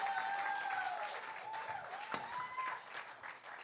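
An audience at a live magic show applauds after a card trick, a steady, moderate clapping wash with whistle-like tones and cheers running over it.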